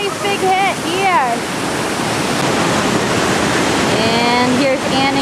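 Roaring whitewater rapids on the Lower Gauley River, a loud continuous broadband rush of churning water with no letup, while high whistling or shouting voices rise briefly over the torrent at the start and near the end.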